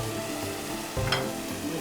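Quiet, steady sizzling of spinach frying in a pan, with a brief scrape of stirring partway through.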